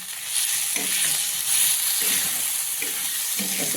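Garlic, ginger and coriander paste frying in hot oil on a griddle, a steady close sizzling hiss with soft bubbling and occasional stirring scrapes.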